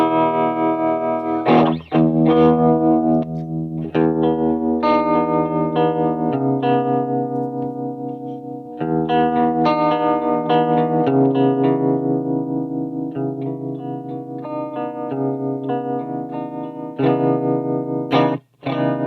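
Electric guitar played through a Visual Sound bias tremolo pedal, sustained chords pulsing in a steady rhythmic volume wobble, loud and close with a bright, slightly distorted tone and no voices.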